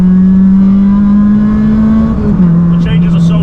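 A caged Honda Civic's engine drones loud and steady at high revs, its pitch holding, then dropping briefly at a gear change before carrying on, with faint voices underneath.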